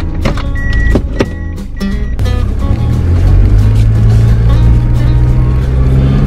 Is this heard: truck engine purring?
yes